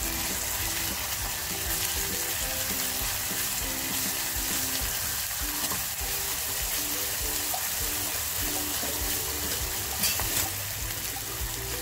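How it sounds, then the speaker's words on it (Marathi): Ground masala paste for a village-style mutton curry fries steadily in a pan, a dense continuous sizzle with faint stirring, close and even throughout with no talk. "आता जे वाटण केले ते थोडंसं वाटण त्यात टाकते आई आणि परत फ्राय करून घेते चांगलं."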